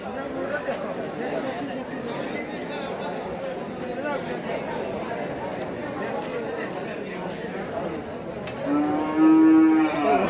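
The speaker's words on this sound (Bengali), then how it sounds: "এটা হলো শাহিওয়াল সুন্দর গরু এটা ফিজিয়ান" Sahiwal and Friesian cattle at an Eid al-Adha cattle market in Sylhet, with one loud, close moo near the end over constant crowd chatter and background hubbub.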